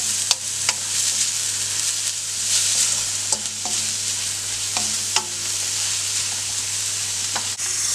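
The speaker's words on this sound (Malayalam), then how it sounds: "ഇപ്പം നമ്മുടെ സവോളയൊക്കെ നന്നായിട്ട് വഴന്നുതുടങ്ങിയിട്ടുണ്ട്." Sliced onions sauté in a pan for mutton curry, giving a steady, close frying sizzle broken by a few scattered clicks of the stirring spoon, with no voices.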